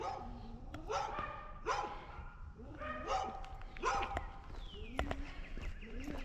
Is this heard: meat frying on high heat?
no